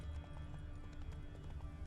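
Hoofbeats of a horse racing at night in The Witcher 3, a steady clip-clop gallop with low thuds running continuously under game ambience, fairly loud and close.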